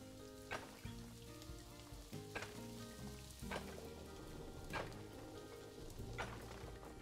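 Steady rain in the video game Planet Zoo patters and hisses on a surface, with occasional louder drops and splashes cutting through the constant wash.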